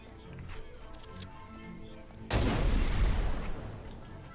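Video game explosions as objects are blown up: quieter clicking and background game sound, then a sudden loud blast of broadband noise that lingers and slowly decays.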